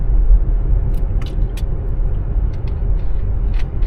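Interior road noise from a car driving along, a continuous heavy low rumble with tyre roar and a few faint clicks and rattles above it, no one speaking.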